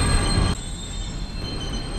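A runaway rail car in Close to the Sun keeps rolling, a heavy rumble that drops in loudness partway through, then continues with a sustained metallic screech and clatter.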